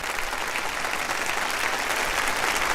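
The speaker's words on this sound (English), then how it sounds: "That clapping's getting louder." Crowd applause closing an album track, a dense, steady roar of clapping that holds at an even level throughout the short stretch, with no talk.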